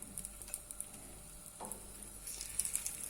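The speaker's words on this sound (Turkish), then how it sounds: "şimdi kızartmaya başlayalım" Steady, faint sizzling of battered cauliflower frying in hot oil, with light crackles and pops and a few soft clinks throughout.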